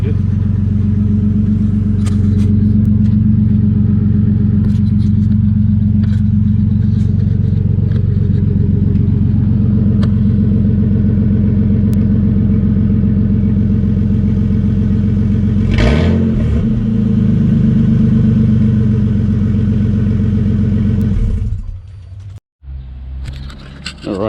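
Ford Territory engine idling with a straight-piped exhaust, a loud, steady low droning rumble held close for about twenty seconds, with a brief rise around the middle before it cuts off near the end.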